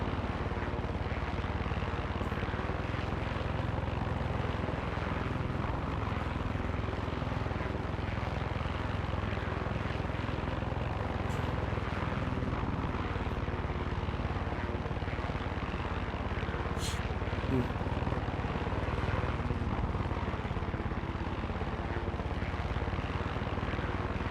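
Helicopter landing in the video game Far Cry 6, a steady broadband rotor and engine drone that holds at an even level throughout, with no talk over it.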